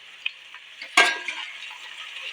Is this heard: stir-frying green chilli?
yes